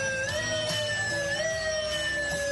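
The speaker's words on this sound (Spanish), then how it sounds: "Este sonido se utiliza cuando una ambulancia llega al sitio del accidente, a un hospital o traslada a un paciente" An ambulance siren wails in a steady, continuous electronic tone with slow rising and falling sweeps, heard alone at a moderate, fairly constant level.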